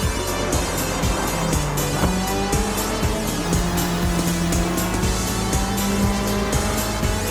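Race cars roar around a track in a racing video game, engines droning loudly and continuously with rising and falling revs, tire squeal and gear shifts layered over a dense, unbroken wall of motor noise.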